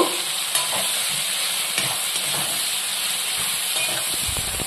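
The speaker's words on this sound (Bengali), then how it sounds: "এবার এটা আমি খুব ভালো করে মিশিয়ে নেব" A spoon stirring cumin powder into vegetable khichdi in a pot, heard as a constant hissing, steaming bubble with occasional scrapes and knocks against the pot, moderately loud and close, no voices.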